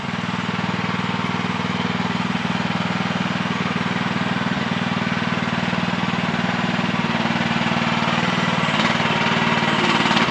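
A small Chinese mini excavator works on wet ground, its engine putting out a loud, steady, close chugging drone that stays constant throughout with no talking.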